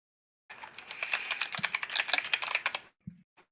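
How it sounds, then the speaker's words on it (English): Fast burst of typing on a loud, clacky computer keyboard, a dense run of sharp close key clicks lasting about two and a half seconds, followed by a couple of isolated taps. "Max, I think you should buy a clackier keyboard, like one that's even louder"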